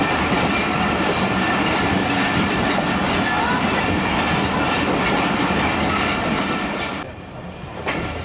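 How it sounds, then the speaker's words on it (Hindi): The Rehman Baba Express rumbles along the rails into the Faisalabad railway station yard, a loud continuous roar of wheels and carriages that eases slightly near the end. "फैसलाबाद रेलवे स्टेशन के यार्ड में दाखिल हो गई है ट्रेन"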